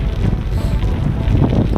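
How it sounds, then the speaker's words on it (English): Steady, blustery wind roars across the microphone on a cycling trail near Clowne Park, a dense rumbling rush with no voices. "given how windy it is today and how exposed"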